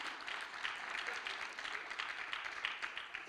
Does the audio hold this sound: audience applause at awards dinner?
yes